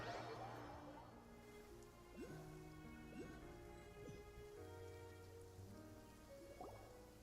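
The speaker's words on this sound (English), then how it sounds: "It's been raining non-stop for a few days now." Steady rain in the Genshin Impact world patters softly on surfaces, a faint continuous hiss with scattered drip-like plinks and light tonal game ambience underneath.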